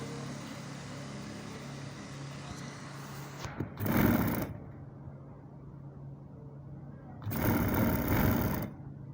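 A sewing machine stitches the pocket of a men's salwar in two short loud bursts of fast whirring, close up, with quieter background hum between them and no speech.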